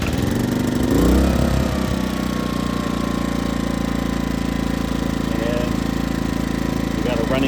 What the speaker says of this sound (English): Running generator.